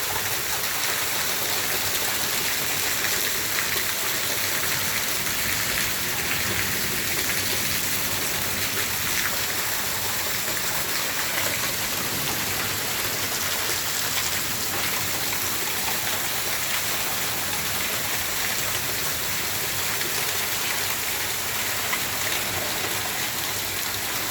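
A loud, dense, unbroken roar of heavy rain lashes down steadily during a storm with wind and hail in a Gujarat village, close and constant throughout.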